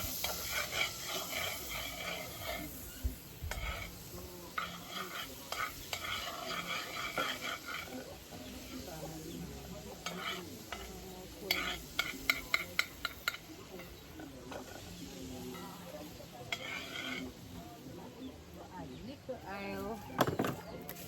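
Butter melting and sizzling in a pan over an outdoor fire in rural Jamaica, with soft scraping stirs and a few sharp clinks of a utensil against the pan, faint and close, under intermittent talk.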